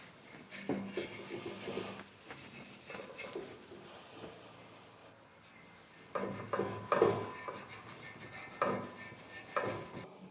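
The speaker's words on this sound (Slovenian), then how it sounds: "Malo ga bom še zbrusil." Hand sanding on a metal bracket from an Abarth 500 with 300,000 km, heard as close, uneven rasping strokes in bursts, quieter in the middle and heavier toward the end, with no talking.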